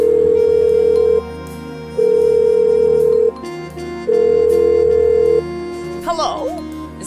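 Telephone ringback in the Blackwell Unbound adventure game: three long, steady purring tones separated by short pauses, clear and up front, followed by a brief voice at the end.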